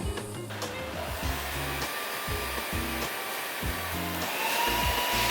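An electric hand mixer at speed 1 beats batter for kue lapis surabaya, giving a steady motor whir broken by repeated rhythmic rattling pulses of the beaters against the bowl, close and moderately loud with no talking.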